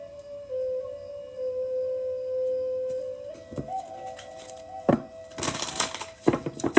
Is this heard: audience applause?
no